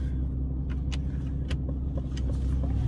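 Aston Martin DB11 grand tourer with 600 brake horsepower being driven, heard from the driver's seat as a steady low engine and road rumble with faint cabin clicks and rustles, no voices.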